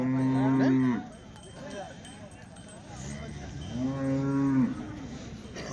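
Cows moo at a weekly Wednesday cattle market in Punganur, two long, loud, close bellows separated by a pause, over a murmur of market chatter and background activity.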